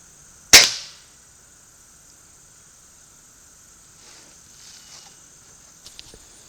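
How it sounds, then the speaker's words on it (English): A single sharp crack from a Beeman air rifle fired on a shooting range, with a short decaying tail, followed by quiet background and a few faint clicks. "I'm going to shoot at the squirrel on the left-hand side."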